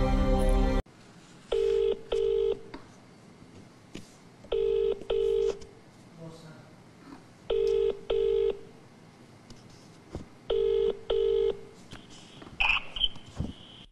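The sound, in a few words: telephone dialing tones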